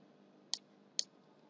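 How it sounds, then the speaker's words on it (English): Two crisp computer mouse clicks, about half a second apart, a quick double click made while placing a 1N4007 rectifier diode in circuit simulation software, sharp and close over a faint background hiss. "Double click."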